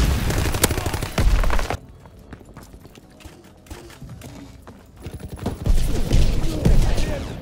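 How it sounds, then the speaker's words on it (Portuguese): Mines set by a teammate blow up one after another in Call of Duty on the Modern Warfare engine, a loud chain of rapid booms and crackling blasts that thins out midway before heavy bursts return. "o teammate passou aqui e saiu explodindo 500 minas"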